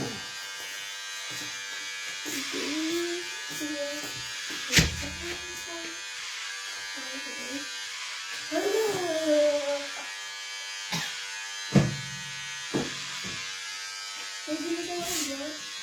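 A steady electric buzz of a shaver or trimmer runs throughout at low volume, while people talk in Filipino over it with occasional louder knocks.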